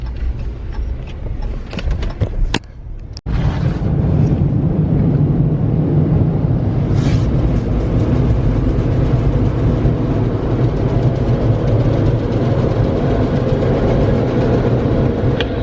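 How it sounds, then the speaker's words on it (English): Ford F150 pickup in an automatic car wash: a steady, loud broadband wash of spraying water and machinery rumble runs continuously, briefly dipping near the start before resuming at full strength, with no talking. "I'm just gonna jump over here and give it a car wash too."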